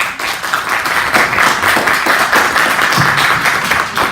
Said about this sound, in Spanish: Vamos a brindarle un caluroso aplauso, por favor.